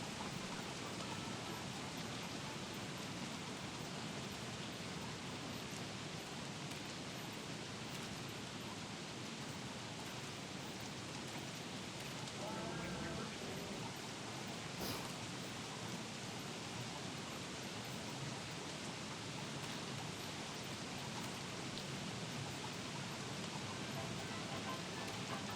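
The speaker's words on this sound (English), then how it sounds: "I hear a frog rain." Frog rain in Don't Starve Together comes through as a faint, unbroken hiss of falling rain that stays even throughout.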